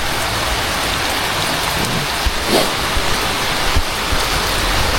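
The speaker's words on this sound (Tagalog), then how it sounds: "Yan ang ulan guys. Malakas." Heavy rain pours down steadily, a dense, loud hiss of drops hitting surfaces that stays constant throughout, with no voices.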